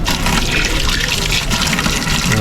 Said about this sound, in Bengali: এখানে কল রয়েছে হাত পা ধোয়ার জন্য